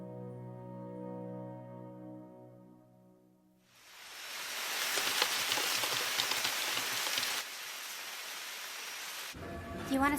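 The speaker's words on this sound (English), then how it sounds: "Might as well, since it's raining" Steady rain hisses down on a surface, swelling in after a quieter opening with faint tonal music, then continuing as dense, even patter.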